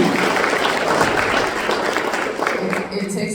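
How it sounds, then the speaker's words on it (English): Audience at a talk claps for a member, a loud and full round of applause from many people that tapers slightly toward the end, with a voice faintly present. "Can we give him a round of applause?"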